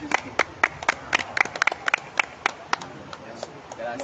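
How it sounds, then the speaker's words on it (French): A church congregation at a baptism service in Douala, Cameroon claps, sharp separate hand claps in an uneven, sparse rhythm that thin out toward the end, with some voices underneath. "On acclame le Seigneur Jésus-Christ."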